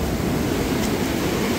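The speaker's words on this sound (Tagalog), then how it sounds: "Oh, tapang-tapang ng alon." Strong ocean waves churn along a shoreline near homes, a steady loud wash of surf blended with wind rumble, continuous and close without any speech.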